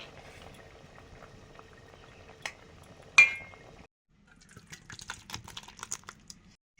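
A sour Bengali fish curry bubbles quietly in a pot. Two sharp utensil clinks come early, then a brief lull, then soft, irregular bubbling and popping resumes.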